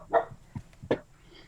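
Several dogs bark off in the neighbourhood, three or four short, faint yelps spaced irregularly against a quiet background with no talk.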